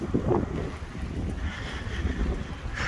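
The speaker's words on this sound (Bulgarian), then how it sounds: "Абсолютно адски вятър." Strong wind buffets the microphone on an open plateau near Varna, a steady low roar with gusty rumble and no voices.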